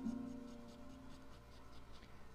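A pencil sketches a panda on paper, making faint repeated scratchy strokes in a quiet, even rhythm close by.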